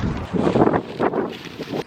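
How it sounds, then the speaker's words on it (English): Gusty wind in Cedar City buffets the microphone in uneven surges, a low rumbling roar that swells and drops several times. "Oh, it's kind of windy."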